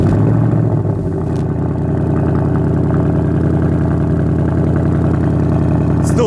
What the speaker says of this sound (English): Still sounds like a Mustang too.